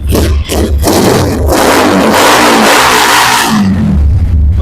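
Yamaha YCR motorbike engine started by remote, growling loud and close as it revs up and settles to a rumbling idle.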